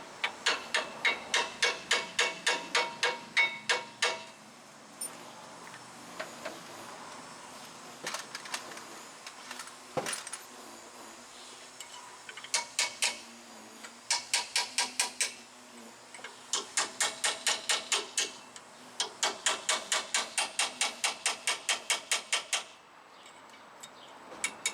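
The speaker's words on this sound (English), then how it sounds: "Your brake pads get stuck." Metal strikes on a rusted, stuck front brake caliper bracket of a 2014 Ford F-150 from the salt belt come in rapid bursts of sharp, ringing hammer blows, separated by short pauses and a few single hits.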